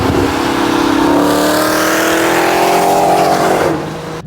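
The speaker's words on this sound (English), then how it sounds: "this is a fast car" A 1000-horsepower Dodge Demon 170 engine revs hard and loud up through rising gears, a strong, close, continuous roar that climbs in pitch for several seconds before cutting off abruptly near the end.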